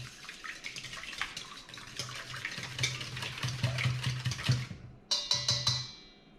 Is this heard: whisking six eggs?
yes